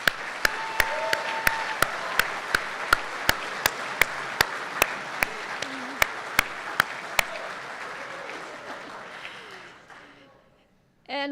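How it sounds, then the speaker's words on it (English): A round of applause from an audience at a recognition ceremony for year two instructors, steady clapping with a regular sharp beat of one nearby clapper, fading out toward the end before a brief sound at the close. "I'd like a round of applause for the year two instructors."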